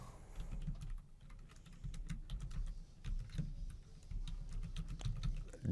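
Quick, steady keystrokes on a computer keyboard as an address is entered, faint and close, with irregular clicks and short pauses between bursts of typing.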